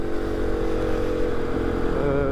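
A motorcycle in its high configuration rides through sand, its engine a steady close drone with a slight rise in revs, loud and continuous.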